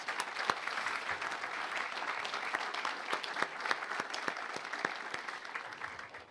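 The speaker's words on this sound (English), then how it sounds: "Let's give a quick round of applause" Applause from an audience at a groundbreaking ceremony for the Harbor Place project in Erie, a steady wash of many hands clapping with sharper individual claps standing out throughout, moderately loud and continuous with no talking.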